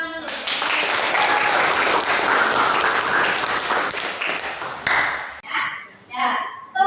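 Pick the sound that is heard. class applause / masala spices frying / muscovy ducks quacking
class applause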